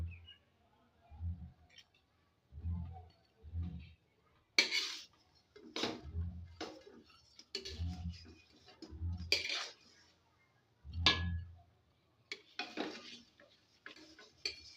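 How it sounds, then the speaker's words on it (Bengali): Fried rohu fish pieces go into a pan one at a time, each landing with a soft metallic clink or clatter in a sparse, uneven rhythm, while faint bird chirps sound in the background. "এবার আমি ভেজে রাখা মাছগুলো এখানে একটা একটা করে ছেড়ে দেবো"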